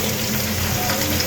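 Onion and green chilies frying in a wok, giving a steady, close sizzle that hisses evenly throughout with a faint underlying hum.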